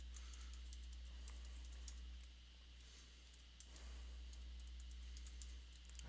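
Keyboard typing during a recorded lecture on metabolic equivalents, a run of quiet, fairly steady clicks and taps over a constant low electrical hum, with no speech.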